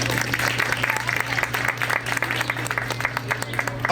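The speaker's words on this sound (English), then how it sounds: "They more than anybody deserve a great round of applause" A round of applause from an audience at a Muslim community Eid event in Brighton Beach, many hands clapping in a brisk, crackling burst at close range, with a steady low hum underneath.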